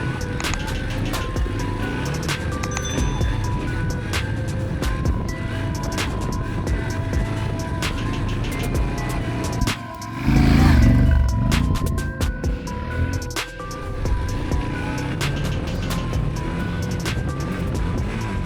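A Yamaha Ténéré World Raid motorcycle grinds through deep sand, its engine droning continuously up close with rough surges and a brief heavy labouring burst midway, wind buffeting throughout.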